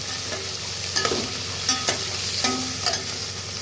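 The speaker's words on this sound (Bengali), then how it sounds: "ফুলকপি, গাজর, মটরশুঁটি, কুচানো কাঁচা লঙ্কা দিয়ে ভালোভাবে নেড়ে চেড়ে নেব।" Cauliflower, carrot, peas and chopped green chili sizzle in a hot pan as a spatula stirs and turns them, making a continuous frying hiss with a few clinking scrapes against the metal, close by and without speech.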